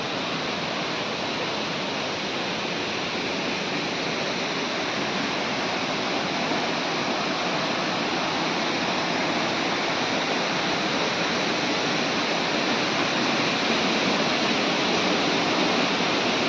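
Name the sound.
Chatikana waterfall flowing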